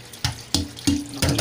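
Running tap water pours into a strainer of cauliflower in a kitchen sink, close and steady, with several brief bursts as the flow shifts against the florets, no voices.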